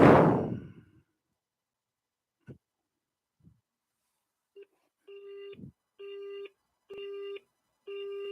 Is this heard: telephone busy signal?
yes